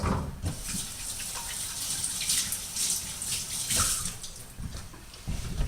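Fingers rinsed under running tap water while making a deluxe pasta salad; a steady, close splashing flow runs throughout with small surges, and no one speaks.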